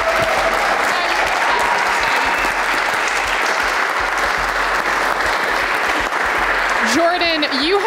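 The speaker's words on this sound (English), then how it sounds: "let's go ahead and give one more round of applause to our jury" Loud, sustained audience applause rolls on for several seconds, with a voice cutting in briefly near the end.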